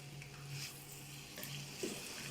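Pasta with shrimp and peppers being turned in a hot pan, giving a soft steady sizzle with light scraping stirs, faint and close, without voices.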